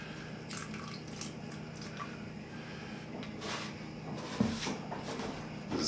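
Water drains and trickles out of an aquarium media reactor in a steady, close wet splashing with small drips and gurgles, no speech.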